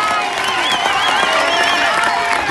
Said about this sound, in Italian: Signori, un applauso fortissimo.